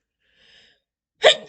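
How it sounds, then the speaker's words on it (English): A single sneeze, close and sharp, bursts out after a brief faint intake of breath and near-silence. "I knew I felt that sneeze coming."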